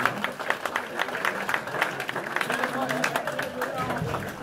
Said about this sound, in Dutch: Applaus waard, zal ik zeggen.